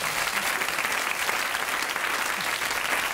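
A television studio audience applauds steadily on the French game show On a tout essayé, a dense, even wash of clapping that holds loud for the whole stretch.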